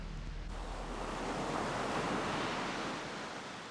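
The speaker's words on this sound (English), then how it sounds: "Today we're heading into this challenging surf to explore the dive site both during the day and at night." Heavy surf rolls in at Monastery Beach, California, a dangerous shore dive site. It makes a steady, dense roar of breaking waves with some wind rush and no voices.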